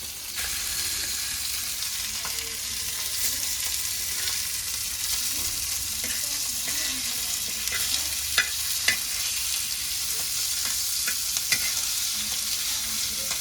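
Steady, close sizzling of ribbon fish frying on a griddle over a wood-fired clay stove, a dense crackling hiss throughout with a few sharper pops and spatters toward the end.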